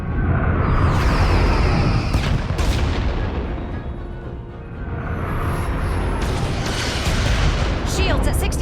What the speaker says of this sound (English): Fire phasers!